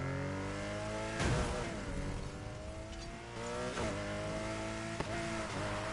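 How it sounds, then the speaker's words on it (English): A Porsche RSR with a loud flat-six engine revs in the Need for Speed Heat racing game, climbing and dropping in pitch several times. The engine is close and dominant, with no voices. "Sounds like a flat 6 to me. A nice loud one."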